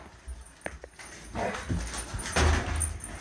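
A dog lets out a couple of short barks and low whimpers close by while chasing an RC car, with scuffling movement and a louder burst near the end.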